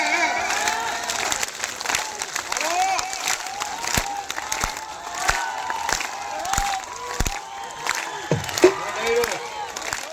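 Audience clapping along at a live outdoor Gujarati folk music performance of dak damru beside Khambhala dam, steady rhythmic claps over singing and crowd murmur, moderately close.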